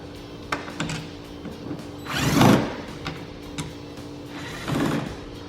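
Phillips head screws are backed out of plastic trim on a Dodge Hellcat, with quiet clicking, ratcheting turns and two short bursts of scraping or whirring, close by and faint, with no talking.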